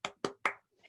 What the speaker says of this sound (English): Yes, I clap too. I clap too.